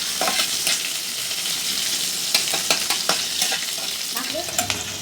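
Green chilies and onions fry in hot oil, a dense steady sizzle punctuated by sharp clicks and scrapes of stirring, close and continuous without any voices.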